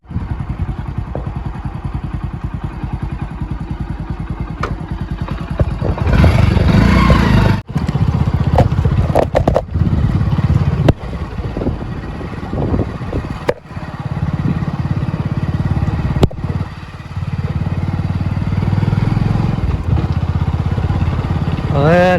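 A motorcycle rides along a rural shortcut road, its engine droning steadily and close throughout with a few sharp clatters and thumps, while a voice talks over it.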